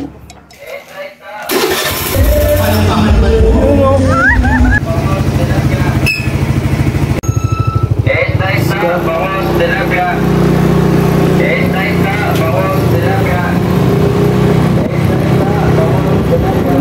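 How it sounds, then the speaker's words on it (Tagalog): A motorcycle engine starts with a sputter and then runs loudly and steadily close by as the bike rides off, with some voices faint underneath. "Gamit tayo ng motor para mabilis tayo."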